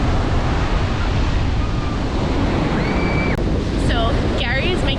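Steady roar of surf and wind at Miami Beach, Florida, constant and close, with brief faint whistle-like tones and scattered distant chirps near the end.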